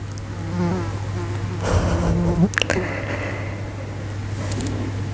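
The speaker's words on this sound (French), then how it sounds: "Ah, la mouche." A housefly buzzes close by in a quiet indoor setting, its whining drone rising and wavering over a low steady hum.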